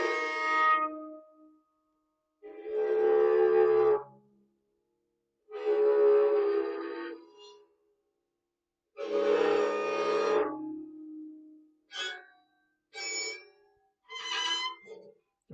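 A custom-built bowed instrument played with a violin bow to make non-musical sounds: long, buzzing, whining tones in separate strokes, then a few shorter scraping bursts near the end, close and solo with quiet gaps between.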